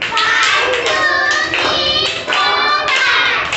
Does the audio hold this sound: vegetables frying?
no